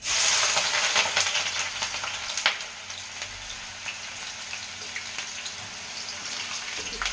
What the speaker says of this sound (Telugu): ఆయిల్ హీట్ అయిన తర్వాత అంత స్లిమ్లో పెట్టి మీడియం సైజ్ ఆనియన్స్ వేయాలి